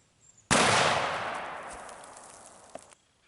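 A single sharp gunshot from a Super Walker revolver loaded with Triple7even powder, fired at a watermelon outdoors, a loud close crack followed by a long decaying echo of about two seconds.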